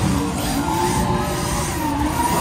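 A remote-control drift car skids, its small motor whining with sustained tire squeal in a loud, continuous close-up burst.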